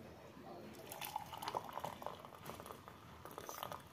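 Red tea, made without sugar, is poured into a cup: a steady liquid trickle with bubbling and dripping runs for a few seconds at close range, with faint clinks and no talking.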